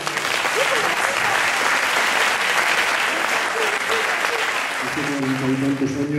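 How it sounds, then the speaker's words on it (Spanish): Concert audience at a farewell show applauding loudly, a thick continuous roar of clapping, with a voice emerging near the end as the applause carries on under it. "Un aplauso."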